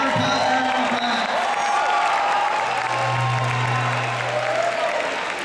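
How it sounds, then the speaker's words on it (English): Applause and cheering from a school assembly audience in a high school gym, dense steady clapping with whoops mixed in, loud and sustained throughout. "So let's hear a round of applause for everyone for that."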